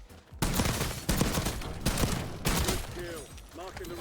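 Repeated shotgun blasts in Call of Duty: Warzone, fired in quick successive shots at roughly half-second intervals. The shots are loud and close, with a voice talking over them near the end.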